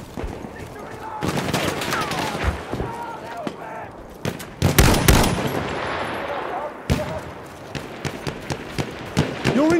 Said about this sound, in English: Machine gun, look down.